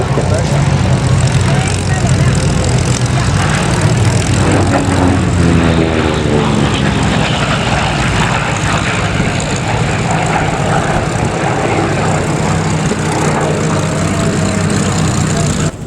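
A Corsair propeller aircraft at the Duxford Flying Legends 2016 air show drones loudly and steadily throughout, its engine roar filling the air while a voice talks beneath it.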